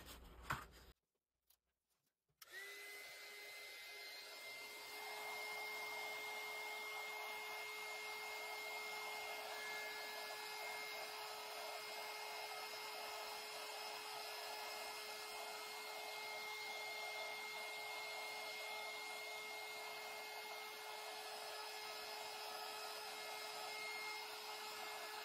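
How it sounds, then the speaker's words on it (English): Handheld heat tool blowing over embossing powder, starting with a few clicks and handling noises before settling into a loud, steady blowing whir with a constant high whine that runs uninterrupted to the end. "All right, I'm gonna get my heat tool."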